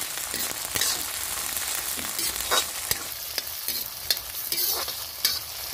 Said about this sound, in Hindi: अब इन्हें भी अच्छे से भून लेते हैं।